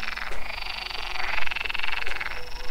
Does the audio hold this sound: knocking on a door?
no